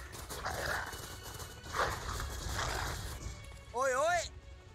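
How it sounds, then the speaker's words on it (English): A dog in Final Fantasy XIV Endwalker gives a short, fairly faint bark near the end, sitting in quiet game ambience and music. "Doggy."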